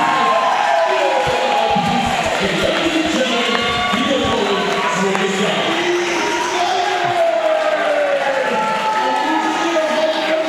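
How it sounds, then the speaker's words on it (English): Crowd at the main stage of a Classic Tetris World Championship silver bracket semifinal roars and cheers continuously, a dense loud wash of voices with shouts throughout. "Crowd going electric on main stage as Easy just completed a chase down on Trist"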